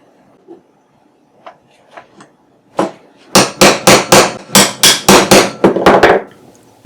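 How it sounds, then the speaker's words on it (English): A small hammer taps metal alignment pins into the holes of a guide bar on an index table being assembled. A few scattered light taps come first, then a rapid run of about a dozen loud, close metallic strikes. "use a small hammer just to tap it in place"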